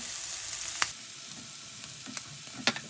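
Leftover rice with sprinkled spice powder fries in a pan for an Indian vagharelo bhaat, a steady close sizzle with a few sharp scraping stir clicks, no talking.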